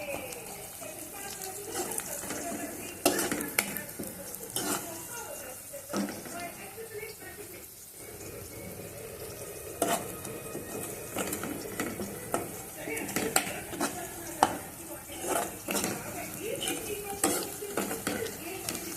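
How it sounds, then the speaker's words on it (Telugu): Curry leaves fry with golden onions in a pan for a spicy Andhra egg curry, with a low sizzle under repeated scraping and clinking strokes of a spatula against the metal. "కరివేపాకు వేసుకొని మళ్ళీ వేయించాలి."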